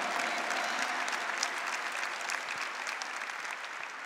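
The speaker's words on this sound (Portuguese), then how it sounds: "Aplauda a igreja." A Catholic church congregation applauds during Sunday Mass, a sustained, even patter of many hands clapping in a large reverberant space, moderately loud, with no speech over it.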